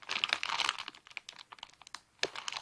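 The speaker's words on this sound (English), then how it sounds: "Sorry if you don't like the crinkling noises." Plastic packaging of a squishy toy being crinkled and squeezed by hand, close, quiet bursts of crackly rustling that come in irregular clusters with short pauses.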